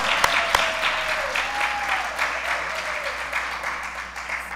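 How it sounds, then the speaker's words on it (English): A church congregation applauds steadily for several seconds, a dense wash of clapping filling the room with no talking over it. "For those of you who are new, they don't always clap right there."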